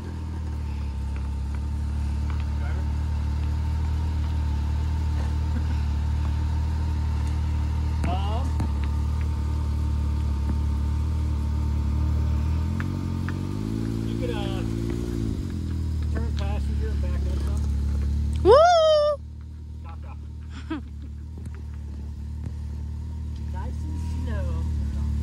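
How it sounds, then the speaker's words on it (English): A Can-Am off-road vehicle's engine holds a steady, droning note at full throttle on a climb. The pitch shifts partway through before the engine cuts out near the end, with voices talking over it. "Now I'm going full throttle. Will it climb?"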